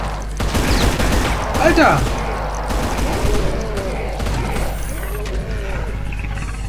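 A burst of gunfire in Brutal Doom as the player shoots at the floor of the Combat Station level, loud, sharp shots clustered early, with a man's exclamation over them and noisy game sounds trailing after.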